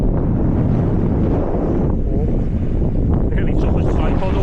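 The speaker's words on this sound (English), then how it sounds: "when you pick it up now that the wind's picked up a bit, you see the sand blowing across the beach" Wind blowing hard across a sandy beach by the river Mersey on a windy day, a loud, steady roar buffeting the microphone, with faint voices in the background.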